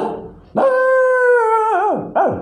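A voice imitates a dog barking, one long drawn-out yelping howl followed by a short second yelp, loud and close with no other sounds.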